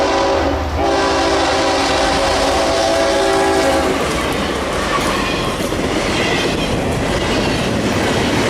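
A train rolls loudly past on the tracks close by, giving a continuous heavy rumble and rattle of wagons. A horn-like tone sounds for the first few seconds before the steady roar carries on alone.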